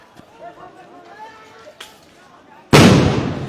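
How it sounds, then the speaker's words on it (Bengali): A sound grenade is thrown by police during a street clash, going off as a sudden loud blast that rings and fades after a stretch of nearby voices and crowd noise. "সাউন্ড গ্রেনেড নিক্ষেপ করা হয়েছে"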